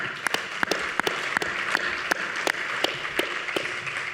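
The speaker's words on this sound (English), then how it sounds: "Big round of applause for Gustavo." Audience applause at a medical conference session, a steady wash of clapping from many hands with a few sharp, distinct claps standing out, continuing throughout.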